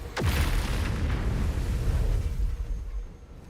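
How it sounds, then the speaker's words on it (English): A video game explosion booms out with a sharp onset and a deep, rumbling roar that sustains for several seconds before slowly fading, heavy in the low end. "You hear an explosion, the earth shuddering beneath your feet in response."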